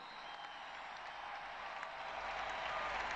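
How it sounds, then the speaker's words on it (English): A large crowd of Italian pilgrims cheers and applauds at the papal welcome of World Youth Day in Madrid, heard as a faint, distant, steady roar that builds slightly toward the end. "the great cheer from the Italians, always very numerous wherever these World Youth Days are held"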